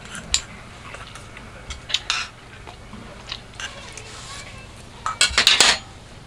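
Dishes and cutlery clink and clatter at a rainy autumn campsite in sporadic bursts, with a cluster of sharper metallic knocks near the end over a quiet background.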